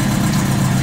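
A Honda CB900 cafe motorcycle engine idling, a loud, steady low rumble close by with no voices over it.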